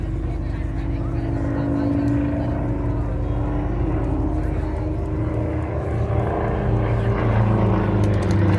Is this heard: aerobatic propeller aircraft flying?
yes